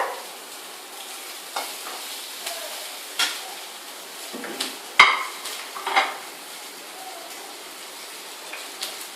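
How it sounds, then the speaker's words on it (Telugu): Onion and tomato frying in a pan for moong dal sambar, a quiet steady sizzle with scattered pops and the odd sharp scrape or tap of a utensil against the pan. "ఇంకొద్దిగా ఫ్రై అవ్వాలి."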